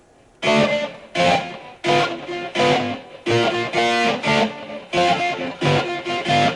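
A distorted electric guitar plays a choppy 80s glam metal riff, repeated chord hits, about ten short bursts with brief gaps, dry and upfront with no delay or echo.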